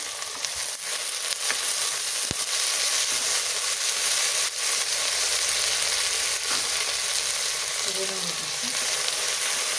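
Coriander and mint roasting in a pan for kushka rice, a steady close sizzle and fry with occasional faint stirring scrapes, running continuously throughout with no talk.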